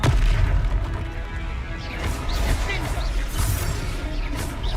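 Confringo fire spell blasts from the Hogwarts Legacy video game, booming bursts repeating through a dense, loud battle mix with a voice talking over the action.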